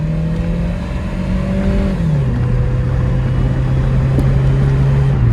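A car engine with overfilled engine oil runs steadily nearby, its droning tone dipping once as revs drop, then holding an even idle-like hum.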